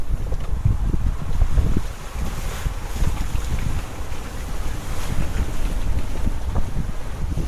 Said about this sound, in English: as we got closer and closer to our destination, the winds picked up